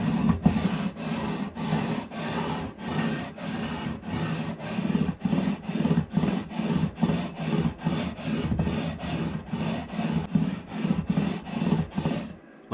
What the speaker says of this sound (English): Sandpaper. This is 320 grit 3M sticky side on the leveling beam.